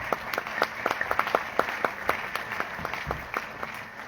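Sparse applause from an audience at a long-running annual event, with individual claps standing out sharply in an irregular, lively patter that continues for several seconds.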